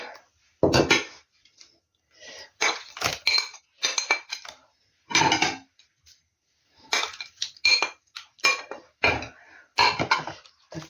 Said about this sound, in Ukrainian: перемішаю його, щоб він там перемішав все добре